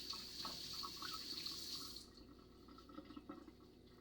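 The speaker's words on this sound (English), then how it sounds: "Get my hands all rinsed" Tap water runs into a sink while hands are rinsed, a steady close hiss for about two seconds before it stops, leaving faint drips and handling sounds.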